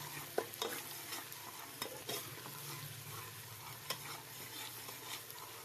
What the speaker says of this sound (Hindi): घी गर्म हो गया तो प्याज ऐड करेंगे। प्याज को अच्छी तरह से ब्राउन होने देंगे।